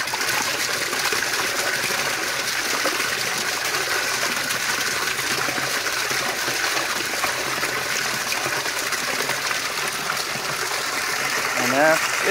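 Water gushes steadily as an aquaponics grow bin in a pond setup flushes, a loud, continuous rushing flow that holds throughout.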